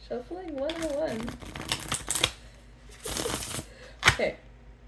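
A voice hums a wavering tune, followed by bursts of crisp riffling and flapping as cards are shuffled close by, in several quick rounds.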